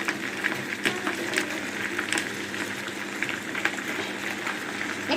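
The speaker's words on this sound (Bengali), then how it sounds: "এখন মাংসটা আগে দিয়ে দিব আমি সরিষার তেলের ভিতরে।" Two kilograms of washed mutton going into hot mustard oil for Old Dhaka-style mutton biryani, giving a steady, close, continuous sizzle and bubbling hiss with no talk over it.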